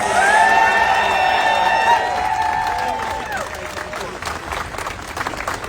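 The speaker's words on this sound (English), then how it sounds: "So let's give him a round of applause." A rally crowd at the Ronald Reagan Building applauds, steady clapping from many people mixed with a lingering sustained tone at first, the clapping continuing evenly afterward.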